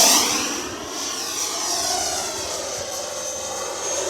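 An FMS Avanti S 90mm EDF RC jet takes off with flaps down on a 50C pack. A loud, steady ducted-fan whine and rush of air carry throughout, swelling slightly near the end.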